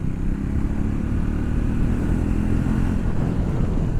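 Triumph Speed 400 (MY25) motorcycle riding on the road, a steady, loud low engine drone with wind rush, continuous throughout.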